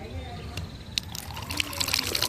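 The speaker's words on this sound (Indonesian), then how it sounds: "Keran airnya masih bagus ya, airnya masih nyala mengalir" Water runs from an outdoor tap at a rest area in the Puncak hills, a close, steady splashing trickle beneath a constant low hum, with faint speech in the background.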